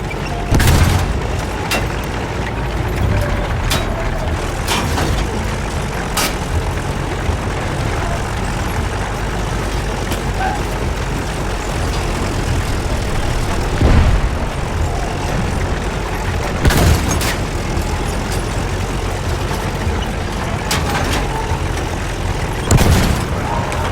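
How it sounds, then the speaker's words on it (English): Mortar explosions in the Battlefield 1 battlefield: a few scattered heavy booms, some near and some distant, break through a constant loud rumble of engines and combat noise. "They got a mortar over there."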